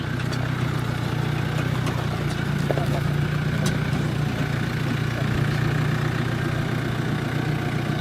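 Jeep JK with a 2.8-liter turbocharged diesel engine running at a steady idle, a loud continuous low drone with faint ticks, and speech present at times.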